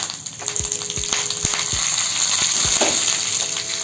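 Mustard seeds, a whole dried red chilli and curry leaves sizzle in hot oil as a tempering for coriander chutney: a steady, dense frying hiss scattered with sharp crackles and pops, close and fairly loud, with no talking.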